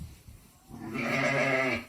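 Newborn-season sheep at an animal sanctuary bleat in a loud, sustained, wavering cry that swells in after a quiet start and holds for about a second, with no talking.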